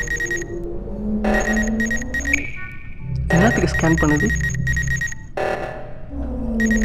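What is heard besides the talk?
alarm ringing in a video game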